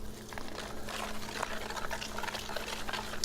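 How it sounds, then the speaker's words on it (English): Sugar being whisked into beaten eggs in a bowl with cinnamon and nutmeg, a steady wet swishing and clicking of the whisk, close and continuous with small splashy accents. "whisk that in a little bit"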